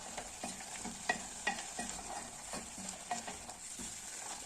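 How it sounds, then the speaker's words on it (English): Onions frying in a pot for goat meat stew, stirred with a utensil: steady sizzle with a series of scraping, clacking stir strokes close by, no talking. "Just stirring my food."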